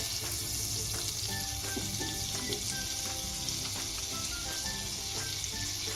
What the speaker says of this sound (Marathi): ह्यामध्ये आता आपल्याला बटर टाकायचंय थोडंसं, 1 चमचा